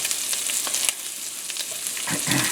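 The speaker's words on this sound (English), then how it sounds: "toss in my ham pieces. We're going to let them fry up just a little bit." Ham pieces fry in a cast iron pan for an omelette, giving a steady close sizzle with a few scraping stirs.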